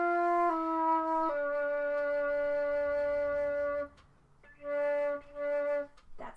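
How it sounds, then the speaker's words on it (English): A flute sounds its low D, a long, clear, steady tone, followed after a short pause by a few shorter repeated notes. "That's the sound of low D."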